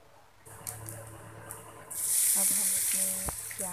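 Cumin and asafoetida hit hot oil and burst into a loud, steady sizzle, close up, preceded by a quieter stretch with light clicks.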